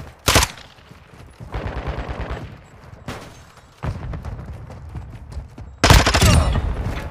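Rapid bursts of automatic gunfire in Call of Duty Modern Warfare 2 crackle in several loud, sustained volleys separated by brief pauses, dense and close.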